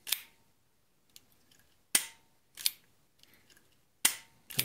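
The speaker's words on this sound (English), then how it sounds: "And it'll fire." Taso BE-90 paintball marker with a double action mechanism, dry-fired: four sharp, loud, close snapping cracks at uneven intervals, each followed by a short metallic rattle, with quiet gaps between.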